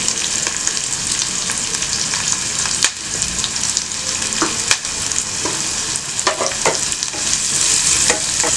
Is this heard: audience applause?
no